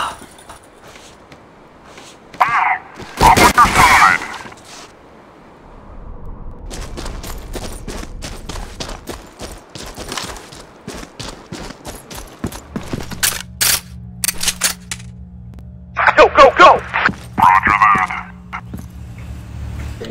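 Gunfire in Counter-Strike Online 2 during a competitive match: repeated sharp shots and bursts scattered through the stretch, some dense rapid volleys, over ongoing game noise and a low steady hum.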